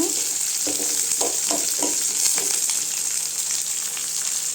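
Pirandai and coconut sizzle and fry in a pan as the chutney base is sautéed, with a steady hiss and a few brief stirring scrapes, close and continuous.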